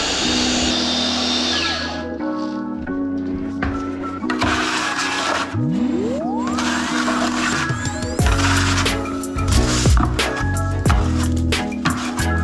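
A power mixer churns Limelite high impact finishing plaster in a bucket, the motor whining and shifting pitch as it speeds up and slows, loud and close, with knocks and scrapes of the paddle and no speech.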